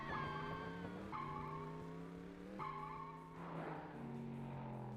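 Car engine in the N64 racing game Cruis'n USA gives a rising, buzzy drone that resets in steps as gears change, clearly present, with a rougher skid-like patch midway.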